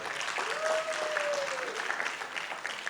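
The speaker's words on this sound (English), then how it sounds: "I think you can you hear a louder applause?" Applause from an audience at a press conference, a dense steady clapping that fills the room for about three seconds at moderate loudness, with a faint tonal squeal briefly riding over it.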